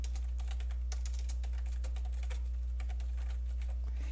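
Rapid, irregular clicks of fingers typing on a computer keyboard, close and fairly crisp, with short bursts and brief pauses over a steady low hum.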